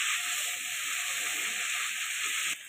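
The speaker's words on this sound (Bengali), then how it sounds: "ভালো করে আরও 3-4 মিনিট মতন কষিয়ে নেব।" Cauliflower stalks sautéing in a pan for a Bengali chorchori, a steady close hiss of sizzling oil that holds evenly before cutting out abruptly near the end.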